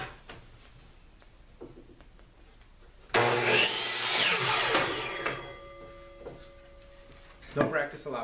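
A hand or power saw cuts through two stacked 8-foot cedar fence pickets at once, starting abruptly after quiet handling and running loud for a couple of seconds, then fading into ringing, with wood knocks near the end.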